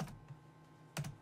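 A computer keyboard typing a web address, a couple of quiet short bursts of key taps, close and faint with no talking.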